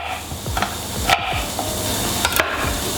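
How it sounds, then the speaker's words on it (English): A knife roughly chops half an onion on a cutting board for a leek and potato soup, giving a few sharp, close knocks spaced irregularly over steady background hiss. "I'm just chopping it pretty rough."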